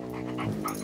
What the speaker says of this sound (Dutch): die klootrond loopt weer te blaffen